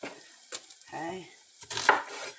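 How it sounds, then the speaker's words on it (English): Onions, carrots, celery and mushrooms sautéing in a pan for soup, a soft sizzle punctuated by a few close scrapes and clinks of a utensil against the pan, quiet and without talk. "I'm going to saute some onions, carrots, celery, and some mushrooms for my soup"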